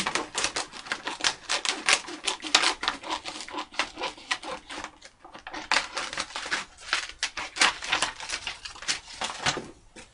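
Wallpaper being cut for an altered art journal, giving a steady run of close, crisp snipping and rustling paper sounds that continue throughout with a brief pause near the middle.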